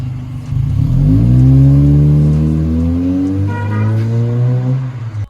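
A car fitted with an HKS Jasma aftermarket exhaust revs hard up close, rising in pitch through a long loud pull, easing briefly, then climbing again before cutting off.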